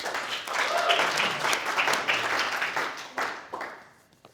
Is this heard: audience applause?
yes